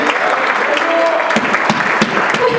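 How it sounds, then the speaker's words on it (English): Audience applause at an award ceremony, loud and sustained broadband clapping close by, with a few sharper claps standing out and voices mixed in beneath. "Clap for Ahmad, please."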